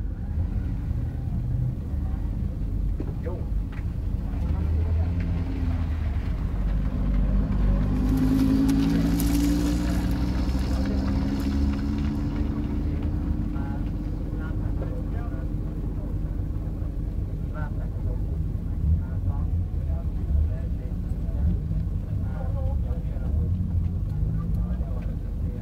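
H7 and H7-plus class rally cars race laps on a minirally track, giving a continuous low engine rumble with one car passing more prominently partway through, all under a loudspeaker announcer's voice.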